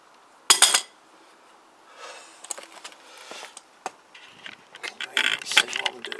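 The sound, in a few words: ratchet removing Kawasaki GPZ500S swingarm axle nut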